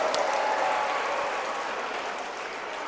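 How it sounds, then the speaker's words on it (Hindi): Schoolchildren in a school hall applaud together, a steady, dense wash of clapping from a large crowd that holds even and loud throughout. "तो जोरदार तालियों के साथ"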